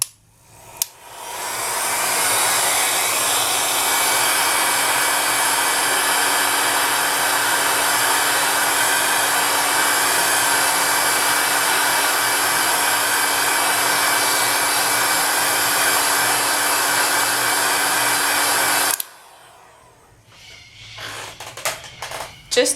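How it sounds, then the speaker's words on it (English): A large heat gun blows steadily to cure a top layer of polymer clay, a loud continuous airy roar running for about eighteen seconds before cutting off, followed by light handling noises. "So I'm going to grab my heat gun, and you can see it's a massive heat gun, and I'm just going to cure the top layer."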